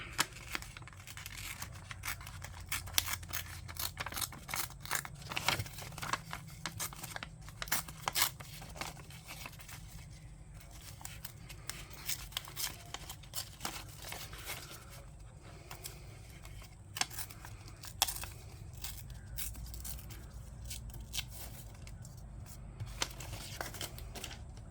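Paper being ripped out in an attic setting: a run of sharp, close tearing and crinkling bursts, irregular and fairly quiet, scattered over a soft background with brief pauses between rips.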